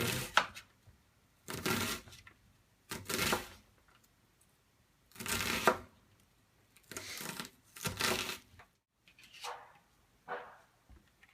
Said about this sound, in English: the onion has to be chopped finely